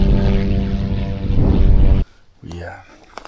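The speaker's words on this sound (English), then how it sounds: "You guys heard that plane." A propeller airplane passes overhead above deer country, a loud, steady droning roar that cuts off abruptly after about two seconds, leaving faint scattered noises.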